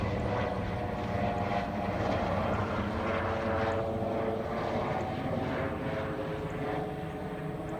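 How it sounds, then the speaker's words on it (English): A helicopter's steady rotor and engine drone fills the scene, loud and continuous as it passes overhead, with no voices. "Something's coming. Ugh. Oh, still over. Helicopter. Hi, helicopter."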